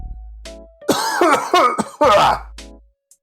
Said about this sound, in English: I had to cough the corona out.